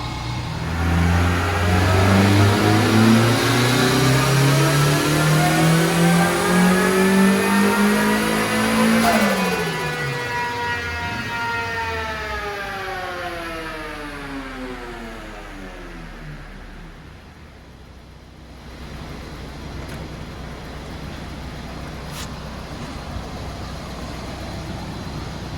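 A turbocharged Mazda Miata engine climbs loudly and steadily to 7,000 RPM over about nine seconds, then winds down and settles to a low idle, with no talk.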